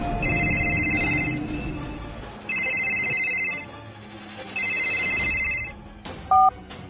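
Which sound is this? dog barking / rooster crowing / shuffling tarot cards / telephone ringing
telephone ringing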